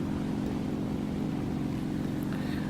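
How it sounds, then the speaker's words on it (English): Steady drone of a simulated propeller aircraft engine in War Thunder, a continuous low hum held at constant loudness as prop pitch is reduced and RPM drops, with no talk over it. "as I reduce prop pitch, you can see the engine RPM go down"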